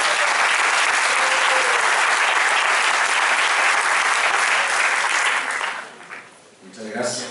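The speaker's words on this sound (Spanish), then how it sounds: "Entonces recibamos con un cariñoso aplauso a Víctor." An audience at a lecture breaks into sustained, dense applause welcoming a speaker, loud and steady, then it thins and fades out near the end as a voice begins.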